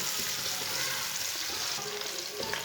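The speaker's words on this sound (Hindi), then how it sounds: "1 बारीक कटा हुआ प्याज डालेंगे। प्याज को हल्का सा ब्राउन कर लेंगे।" Finely chopped onion frying in a cup of oil in a home kitchen, a steady close hissing sizzle with occasional stirring scrapes, no talking.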